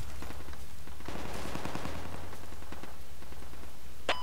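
Rapid gunfire crackles in the military shooter game Project Reality, a dense burst of automatic shots from nearby weapons that swells in the middle and then thins into scattered rounds.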